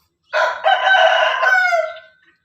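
A Burmese fighting rooster, a lightweight gamecock, crows once loudly and close, a single drawn-out cock-a-doodle-doo lasting about two seconds with no other sounds.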